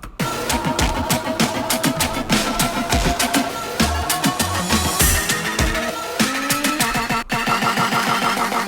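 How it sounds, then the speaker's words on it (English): Build-up of a house music track plays loud and continuous, with a steady pulsing beat and layered synths that keep rising without a break. "So here's build-up, and then I'm going to let it ride into the drop for a second."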